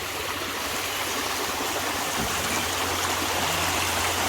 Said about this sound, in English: Got a sluice going, beautiful stream, all the greens coming back out.